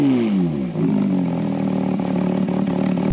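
A 2015 Porsche 911 GT3's 3.8-liter flat-six engine revs, its pitch sweeping down then holding at a loud, steady throaty roar with small fluctuations.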